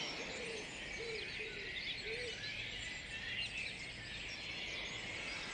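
A woodland dawn chorus of many birds, dense overlapping high songs and chirps blending into a continuous wash, with a few lower hooting calls early on; fairly faint and distant, no voices.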